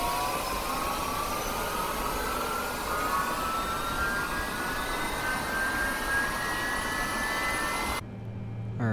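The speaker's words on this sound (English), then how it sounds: "We're going to go ahead and start up engine 2." Boeing 767-300ER jet engine spooling up during startup in Microsoft Flight Simulator 2020, a loud continuous roar with a rising whine that climbs steadily, then cuts off abruptly near the end; no talking.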